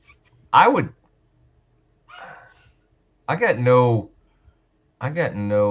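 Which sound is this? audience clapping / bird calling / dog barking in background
dog barking in background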